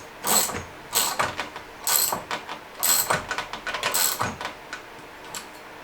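Mountain bike crank arm being installed, with repeated ratcheting clicks in bursts, like a ratchet wrench tightening the crank bolt, close up with no voices.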